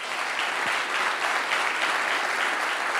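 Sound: conference audience applauding

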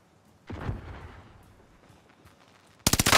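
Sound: gunfire in video game Warzone

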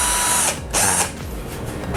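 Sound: DELTON cordless drill spinning at power level two

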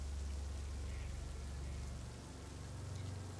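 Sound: heavy rain pouring at night

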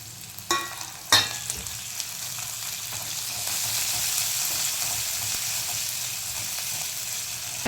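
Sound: chili, garlic and ginger paste frying with cumin

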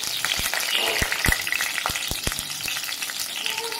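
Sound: chopped garlic frying in hot oil

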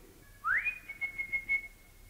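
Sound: person whistling

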